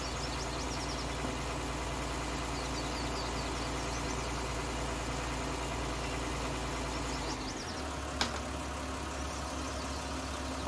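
A small New Holland tractor engine idles in Farming Simulator 19 with a steady, even drone that shifts lower near the end, followed by a single brief click, heard alone without talking.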